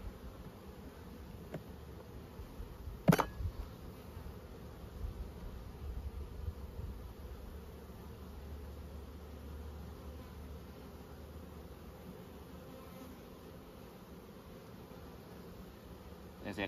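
Honey bees buzz at an open hive, a faint, steady, close droning hum that holds for the whole stretch, broken by one sharp knock early on.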